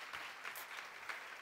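Steady applause from a church congregation during a sermon, a dense patter of many hands clapping at an even level throughout, with no one speaking.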